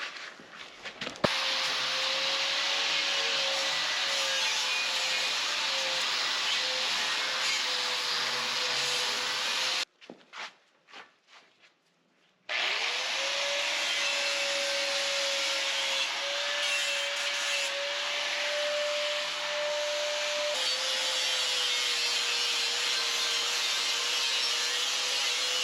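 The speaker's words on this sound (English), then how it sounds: "after we have sanded down this piece of metal" A power sander grinds steadily against a piece of metal on a homestead build site, a loud continuous whirring rasp with a sustained motor whine, briefly stopping midway before resuming for the rest.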